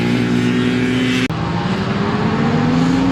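Classic motorbike on the Tonfanau race circuit, a loud steady engine drone with harmonic whine that briefly cuts out, then resumes as it carries on past.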